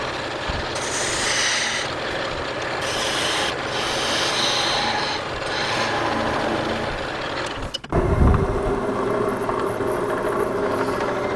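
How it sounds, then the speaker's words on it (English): Drill boring a 1/4 inch hole into wood turned on a lathe at low speed, a steady close rasping, rubbing grind with faint motor hum, broken by a brief pause and a thump before the grinding resumes. "then I'm going to remove the tailstock and drill a hole"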